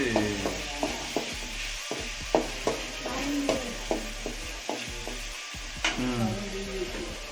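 A ladle stirs onions and chillies frying in hot oil for chicken varuval. Rhythmic metallic scrapes and taps sound close over a constant sizzle.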